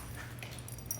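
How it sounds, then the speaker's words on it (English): Dogs somewhere in the distance give faint, brief yips and whimpers, sitting low beneath a steady background hum. "there go the dogs"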